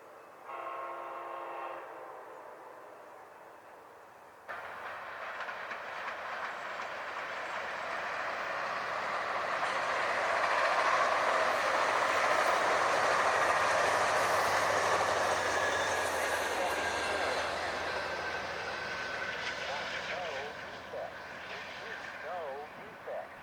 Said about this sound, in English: There goes Amtrak 505 with the Mount Jefferson Talgo set in the lead. It's heading southbound to Eugene, Oregon.